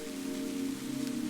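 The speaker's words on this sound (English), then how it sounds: "Outside, the rain continues, steady and comforting" Steady rain falls outside at night, a soft, even patter with a constant low hum beneath it, unbroken and fairly quiet, with no voices.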